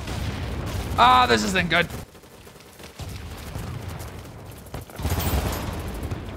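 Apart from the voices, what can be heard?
gunfire in the video game Battlebit Remastered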